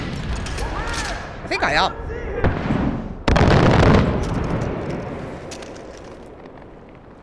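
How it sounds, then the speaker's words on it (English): Mortar fire and explosions in the Far Cry 4 video game, with heavy rumbling blasts and a big boom that slowly decays, loud and close, with someone talking over them. "We're firing off mortars."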